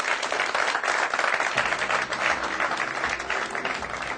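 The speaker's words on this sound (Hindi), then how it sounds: "एक बार इस शो को शुरू करें, परिचर्चा को शुरू करें जोरदार आपकी तालियों के साथ।" A television studio audience claps loudly and continuously at the opening of a political news discussion, with a low hum entering partway through and no speech.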